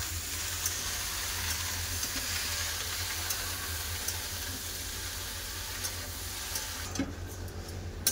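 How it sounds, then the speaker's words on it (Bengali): Red amaranth greens with prawns sauté in a pan, giving a continuous, even sizzling hiss with light stirring throughout and no voices. "শাকটা কষা হচ্ছে"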